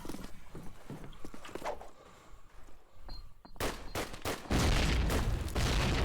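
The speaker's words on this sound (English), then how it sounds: "Early nades exchange" Early grenade exchange in a competitive team shooter match: scattered thuds and pops of gunfire and footsteps give way to a loud, sustained hiss of smoke grenades billowing out near the end.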